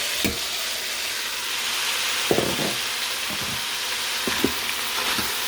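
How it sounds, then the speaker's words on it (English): The Trinity and beef stir in an Emeril pressure air fryer: a steady oily sizzle with a few sharp utensil scrapes and clicks scattered through, close and fairly quiet. "Give that a little stir because we want all that braised with the beef too"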